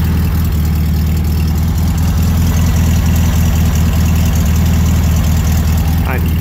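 Air-cooled VW Beetle engine idling through shortened tailpipes with the baffles removed, a steady loud low throbbing rumble that holds even throughout, close by with no talk over it.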